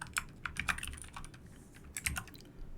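Computer keyboard keys clack in quick irregular bursts while code is typed, with a pause midway before another flurry of keystrokes; close and fairly quiet, no voices.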